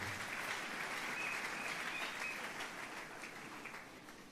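A church congregation claps in praise during a service, a steady wash of applause that slowly fades, fairly quiet and distant.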